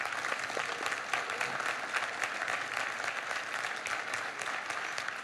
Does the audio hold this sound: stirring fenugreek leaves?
no